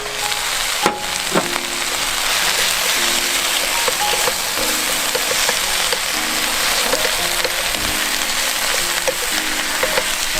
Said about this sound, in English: Stir fry a little bit more.